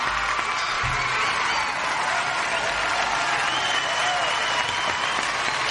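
Steady applause from a crowd, a continuous dense wash of clapping with some cheering mixed in, moderately loud and unbroken throughout.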